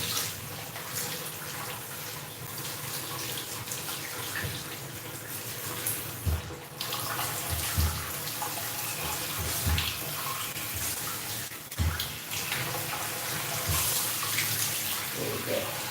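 A running tap or sprayer pours water steadily while a doodle dog is bathed in a tub, a continuous close rush with a few brief bumps and splashes, and someone talks intermittently over it.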